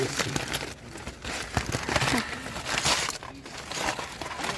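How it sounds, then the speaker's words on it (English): Smoked meat pulled from its wrapping after a low-and-slow cook, giving steady crinkling and crumpling of wrap with soft tearing, close up, while people talk around it. "We're gonna unwrap them and see what they look like and see what they taste like."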